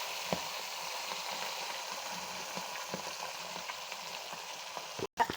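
Fish frying in hot oil in a wok gives a steady, close sizzle with light crackles throughout, broken by a brief clatter near the end.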